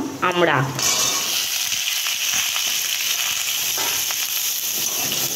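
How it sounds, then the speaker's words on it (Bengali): Hog plum pieces and five-spice fry in hot oil as a loud, steady sizzle that hisses on close and constant, after a brief voice at the start and a few faint stirring clicks. "আমড়াটাকে এবার কষাতে থাকবো, ভালো করে তেলের মধ্যে কষিয়ে নেব"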